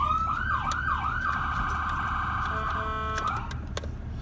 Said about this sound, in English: then I'll go through the siren tones.